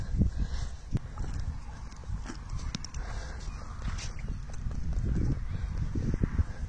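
Horse hooves clop and shuffle close by from a horse of nearly 14 years, with irregular thuds and rustling and a faint voice in the background.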